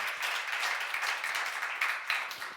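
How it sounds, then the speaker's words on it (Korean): A church congregation at a seminar gives a round of applause, a dense, steady wash of many hands clapping at some distance, with no one talking. "박수를 한번 드리세요."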